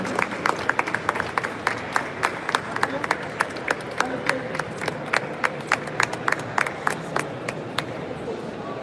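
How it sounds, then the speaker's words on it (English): An audience claps at an Ashok Leyland engine launch event at EXCON 2025, with scattered, moderately loud hand claps rising and falling over several seconds while a voice speaks. "Can we have a huge round of applause,"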